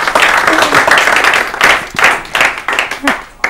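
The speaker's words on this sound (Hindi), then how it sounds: "इसके लिए ताली बजाई जाए" Studio audience clapping on an Urdu-language literary quiz show, a burst of many hands clapping for a correct answer, loud and close, fading into scattered claps toward the end with talk mixed in.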